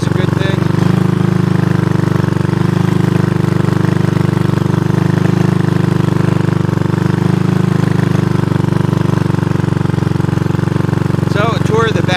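A 1983 Honda ATC200 three-wheeler engine idles steadily at close range, a continuous low drone with no revving, while someone talks over it.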